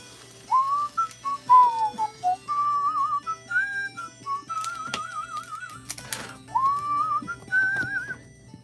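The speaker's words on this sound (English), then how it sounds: "I shouldn't whistle so much." A person whistling a meandering tune up close, a series of short rising and wavering phrases with a few soft clicks and taps between them, no talk.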